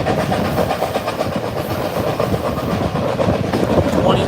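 Northern 4-8-4 steam locomotive 2102 hauling an excursion train along the line, a steady loud rumble with continuous rhythmic clickety-clack of wheels over rail joints and a faint hiss, no talk.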